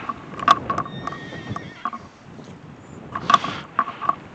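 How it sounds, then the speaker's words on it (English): Horses encountered on a ride, with several sharp neighs and whinnies over brief hoof clip-clops, close and fairly loud against a quiet outdoor background. "And there's some horses."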